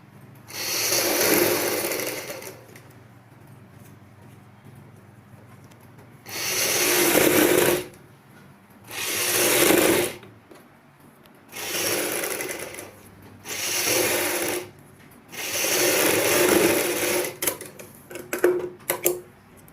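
An electric sewing machine stitches the long neckline of a choli, running in seven separate bursts of fast, even whirring separated by short quiet pauses, with the final run stuttering in quick starts and stops.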